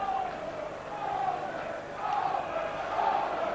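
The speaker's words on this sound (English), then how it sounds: "Crowd in good heart and good mood." Large rugby league crowd filling a stadium before kick-off at an Oldham v Wigan cup semi-final, a steady roar of massed voices with swelling cheers and chants, loud and continuous throughout.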